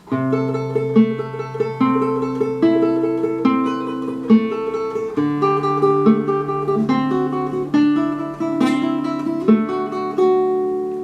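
Classical guitar playing bar 8 of Schubert's Ave Maria in tremolo style, rapid repeated treble notes shimmering over plucked bass notes, close and steady, with no voice.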